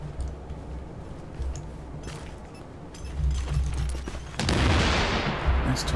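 A grenade blast in The Division, a loud broad boom near the end that sweeps up and decays, following scattered gunfire and low rumble with voices talking.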